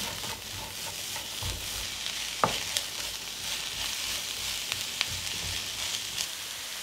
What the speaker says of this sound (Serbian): Luk pržim dok ne omekša.